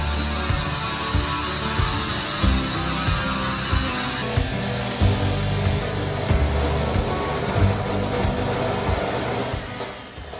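Angle grinder running on a worn, half-used wheel, grinding down the steel roof of a shipping container house; a steady, loud, gritty whine that continues with small surges for about ten seconds, easing at the end.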